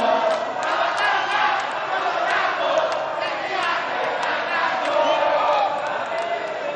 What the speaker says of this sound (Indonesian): silakan kedua pendukung dari masing-masing paslon, silakan memberikan tepuk tangan